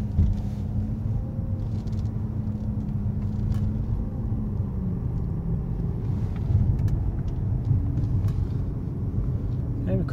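Steady low engine and road rumble from inside a 2007 Mercedes-Benz S550 as it drives, constant and moderately loud, with someone talking over it.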